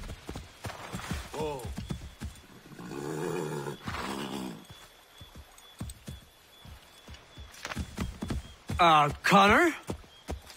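Horse hooves clip-clop in the Assassin's Creed 3 video game, a quick uneven run of hoofbeats mixed with in-game voices and other effects, including a brief whinny-like sound near the end.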